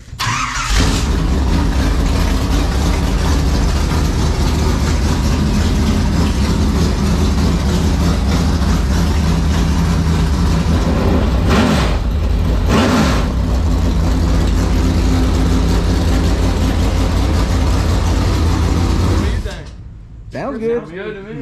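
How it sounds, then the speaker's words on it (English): A loud race car engine, a street stock, runs steadily at a rumbling idle for most of the stretch, then cuts off near the end, followed by faint background noise. "Does it sound like your motor, Jesse?"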